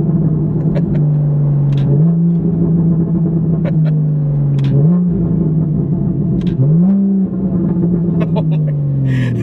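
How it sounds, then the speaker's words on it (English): A Porsche downshifts from fifth to fourth gear, its engine droning loudly and close, with the pitch rising and falling in several revving steps and sharp exhaust crackles and pops scattered throughout. "This car crackles and pops so much. I'm just downshifting from 5th to 4th,"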